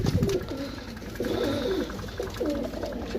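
Pigeons coo in repeated soft, low rolling calls close by, several phrases in a row over a quiet background.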